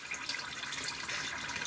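Water pours steadily from a rain catchment supply into an off-grid washing machine, a continuous close hiss and splash with no voices.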